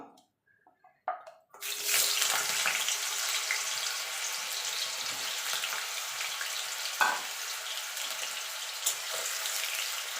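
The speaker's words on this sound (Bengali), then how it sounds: "এবার আলুটাকে ভেজে নেব।" Cut potato drops into hot oil in a pan with a sudden loud hiss, then a steady, close sizzle of frying continues with occasional pops and stirring clatter.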